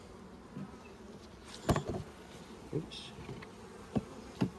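Honey bees hum and buzz around an open hive during a beginner's frame inspection, a steady low drone broken by a few close knocks and clicks of handling and one brief spoken word.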